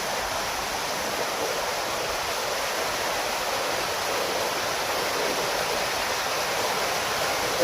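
A mighty waterfall roars in a steady, dense hiss of rushing water that holds constant and fairly close throughout, with no voices.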